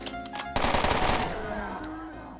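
Plasma pistol fire in the turn-based game Underrail: a sharp, loud burst that rattles off in a quick run of shots and then rings away over a couple of seconds, with no one talking.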